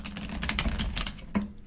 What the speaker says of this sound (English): Let's reshuffle these cards.